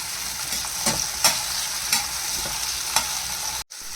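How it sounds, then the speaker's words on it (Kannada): Chopped tomato fries in a pan over a continuous sizzle, while a spoon scrapes and stirs in a loose rhythm of sharp clicks, close by, before a sudden brief cut. "ಒಂದು ಟೊಮೊಟೊ ಕಟ್ ಮಾಡಿ ಇಟ್ಕೊಂಡಿದ್ದೀನಿ, ಹಾಕ್ತಾ ಇದ್ದೀನಿ"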